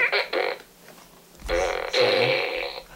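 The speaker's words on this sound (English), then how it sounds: "I got this fart gun." A toy fart gun lets out two short squelchy blasts, then two longer buzzing raspberry bursts, loud and close at an outdoor car boot sale.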